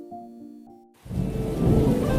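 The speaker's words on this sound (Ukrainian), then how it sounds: "Дощ лив стіною, блискавки розрізали небо." Thunderstorm with heavy rain in an audio fairy tale, starting after soft music tones with a sudden rumble and a dense, steady downpour that swells and keeps roaring.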